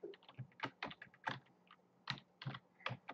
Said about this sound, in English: let's type it in here